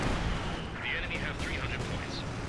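Airstrike explosions booming in Company of Heroes 2, dense rumbling blasts and crackling battle noise over a short stretch, with some game voices or talk mixed in.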